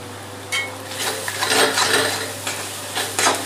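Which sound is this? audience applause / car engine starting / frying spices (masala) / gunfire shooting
frying spices (masala)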